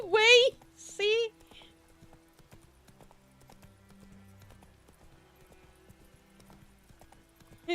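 Hooves clip-clop at a steady trot from a horse in The Witcher 3 video game, quiet and even beneath game sounds, with two short vocal bursts near the start and another at the end.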